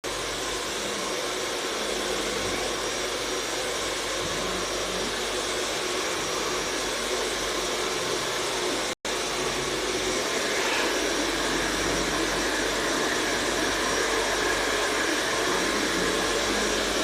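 Hair dryer blowing steadily close by, a loud continuous broadband whoosh lasting throughout with one brief cut near the middle.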